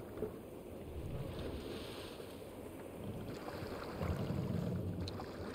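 A ship sailing across open water in the video game Assassin's Creed Valhalla, heard as a steady wash of waves, wind and hull noise that holds level and swells slightly near the end, with no talking.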